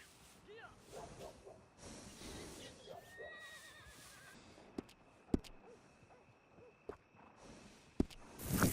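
A horse in the video game Red Dead Redemption 2 whinnies with a rising, wavering neigh, followed by scattered sharp clicks and thumps in a quiet background.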